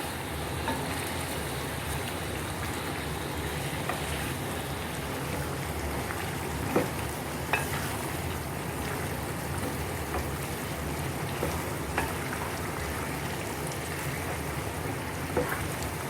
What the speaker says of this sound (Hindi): जी देखें हमने गोश्त डाल दिया। अब हम इसे अच्छी तरह भूनते हैं।